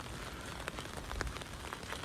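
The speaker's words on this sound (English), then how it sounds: "As you can see, it's raining and it's going to keep raining for at least 2 hours." Steady rain falls over the city streets of Delft at night, a continuous broadband patter with scattered closer drops tapping surfaces, fairly faint and even throughout with no one speaking.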